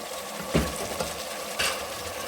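Tomato paste going into light golden frying onions in a pan, a steady hiss of sizzling with a few stirring scrapes and soft clatters rising over it, no voices.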